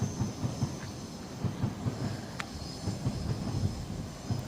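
Javelin high-speed train at Ebbsfleet International station on HS1, a low rhythmic rumble and rolling wheel noise at moderate distance with a brief sharp click partway through.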